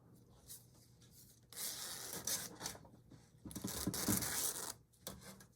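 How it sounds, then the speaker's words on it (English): A 12-inch zipper, slightly sticky, rasps open and closed on a handmade handbag in a few quick, scratchy pulls, faint and close, with short pauses between strokes. "I like to unzip it and zip it just to make sure it works"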